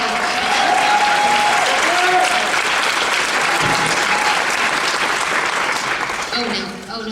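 Sustained applause from a workshop audience, dense and steady throughout with some voices mixed in, tapering slightly at the end.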